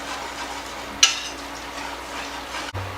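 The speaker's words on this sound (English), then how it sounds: "Just whisk it in there so that you get all that flour mixed in." Chicken broth being whisked into flour in a pot for broccoli cheddar soup, a steady close swishing stir with one sharp clink of the whisk against the pan.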